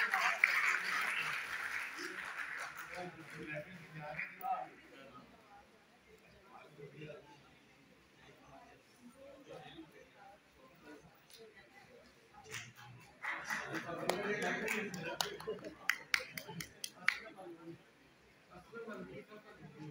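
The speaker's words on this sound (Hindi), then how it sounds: "तालियों की गूंज में मोहतरम आबिद नसीर साहिब" An audience at an Urdu mushaira applauds as a poet is welcomed: a dense wash of clapping at the start and another swell later, with a voice talking over the quieter stretch between.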